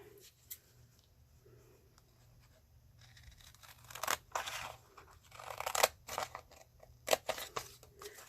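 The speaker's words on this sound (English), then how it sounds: "let's go ahead and cut this out" Scissors cut out craft paper close by in bursts of crisp snipping and rustling, quiet at first and then busier in the second half, with soft handling noises between cuts.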